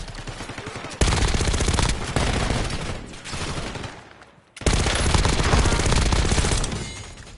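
Sustained automatic gunfire in the Warzone battle royale game, dense rapid bursts filling nearly the whole stretch, with a brief lull before a loud renewed volley.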